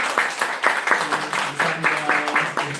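Church congregation clapping to welcome a newly registered member, a rhythmic burst of hand claps in a steady pulse with a voice speaking over it.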